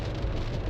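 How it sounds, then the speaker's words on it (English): Heavy rain pouring down around a yard, a dense, steady hiss of water with no break over a brief moment. "Every time it rains like this and it's chucking it down again."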